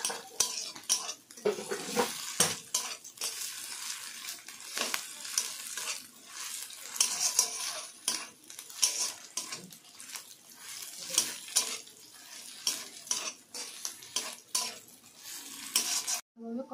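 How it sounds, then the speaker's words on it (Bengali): Ginger paste sautéing with onion and garlic in a pan, an uneven sputtering sizzle broken by frequent scraping and clattering strokes of a spoon stirring, close and moderately loud, no speech. "এবার এর মধ্যে অর্ধেক চামচ আদা বাটা দিয়ে দিই, ভালোভাবে পেঁয়াজ ও রসুনের সঙ্গে মিশিয়ে ভালোভাবে কষিয়ে নেব।"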